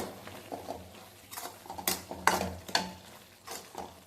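Curry masala powder stirred in a pan, with a quiet bed of sizzling broken by uneven spoon scrapes and a few louder clanks against the metal, no one speaking.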